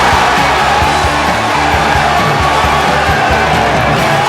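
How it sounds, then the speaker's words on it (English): Loud, dense roar of a home football crowd cheering at a stadium after Waterford United score in an FAI Cup match against St Patrick's Athletic, sustained and unbroken throughout. "Waterford United ahead and the home crowd in raptures"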